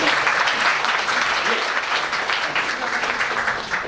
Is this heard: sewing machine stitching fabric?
no